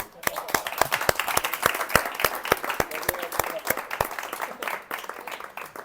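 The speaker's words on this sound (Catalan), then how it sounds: "M'agradaria que féssim un aplaudiment." Audience applause at a festival press presentation, a brisk burst of many hands clapping in a dense, fairly close rhythm that holds steady and slowly thins toward the end.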